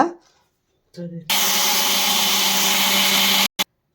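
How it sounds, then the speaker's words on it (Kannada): A mixer grinder jar whirs steadily as roasted rice is ground into a coarse powder, a loud continuous motor roar lasting a couple of seconds before cutting off sharply, with a brief restart pulse and faint voice sounds just before it starts. "ಈಗ ಮಿಕ್ಸಿ ಜಾರ್ಗೆ ಹಾಕ್ಕೊಂಡು ಪುಡಿ ಮಾಡ್ಕೊಳ್ಳೋಣ"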